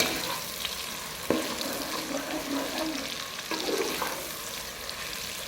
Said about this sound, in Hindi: अब हम इन प्याज को अच्छी तरह ब्राउन कर लेंगे।